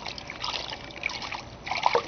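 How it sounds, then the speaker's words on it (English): Bathwater swished by hand while bathing a dog: soft, faint trickling and dribbling splashes, continuous and close, with small louder sloshes near the end. "You don't have to just swish the water with your hand like this."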